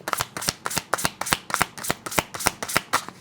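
Playing cards being shuffled in quick repeated riffles, a rapid crisp flutter of about a dozen bursts, close and clear with no talk.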